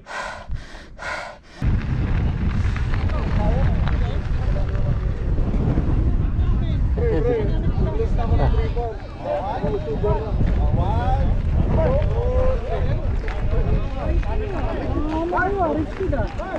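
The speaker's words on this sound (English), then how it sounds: "So windy." Strong wind buffets the microphone while mountain biking on Mission Peak, a loud continuous low roar through nearly the whole ride, with people talking and calling out over it.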